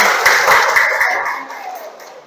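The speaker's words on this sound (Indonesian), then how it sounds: "Oke, terima kasih buat Aziz, tepuk tangan." Brief classroom clapping for a student's product design presentation, a burst of hand claps that fades out over about two seconds.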